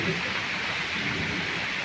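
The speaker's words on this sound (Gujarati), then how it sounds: "વરસાદ જબ્બર પડે છે" Heavy rain pours down steadily over a cotton farm field, a dense, constant hiss with a low thunder rumble beneath it and no voices.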